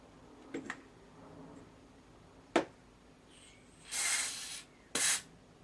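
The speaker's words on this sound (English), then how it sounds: "Spray a bit on the front of the controls as well." Bursts of spray cleaner hiss onto the front controls of a Dansette Major record player during a service, two short loud sprays close to the mic after some light handling clicks.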